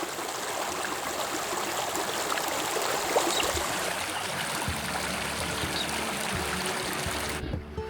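A mountain stream near Lake Newdegate on a Tarn Shelf hike rushes and gurgles steadily throughout, close and fairly loud, with no voices.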